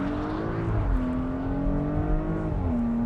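A 2019 Porsche Cayenne S engine pulling hard through its 8-speed transmission, a loud sustained drone that rises in pitch, drops at a quick upshift, then climbs again before another shift, with no talk.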